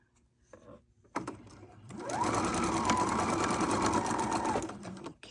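A sewing machine stitches across a pinwheel quilt block, starting with a few soft clicks before breaking into a fast, steady whir of rapid needle strokes that runs for several seconds and then stops.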